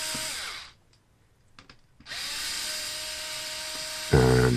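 Electric screwdriver removing Phillips screws from a Huawei MateView GT 34-inch monitor, two close high-pitched whirring bursts separated by a quiet pause with small clicks, ending in a louder grinding buzz.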